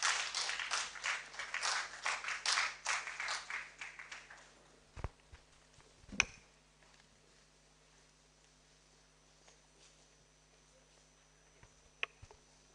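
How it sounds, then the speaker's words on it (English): Applause for a conference co-chair at an international postgraduate studies conference: a room of clapping for about five seconds, then fading to near silence with a couple of isolated knocks. "Please, a round of applause for her."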